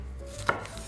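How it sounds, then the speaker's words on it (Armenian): A knife chops vegetables coarsely on a board, one clear sharp chop standing out near the middle of a brief, quiet moment. "կտրատում ենք ոչ մանր"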